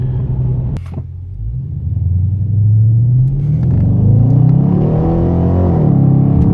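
A 2017 Dodge Charger R/T with the 5.7L V8 and 8-speed automatic accelerates from inside the cabin, its engine rumble rising in pitch through a shift or two, loud and close with no talk.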